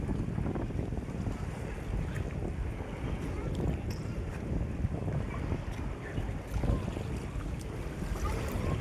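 Continuous blustery sea wind buffeting outdoors at a beach resort, a low rumbling roar with gusts, steady throughout with faint background voices.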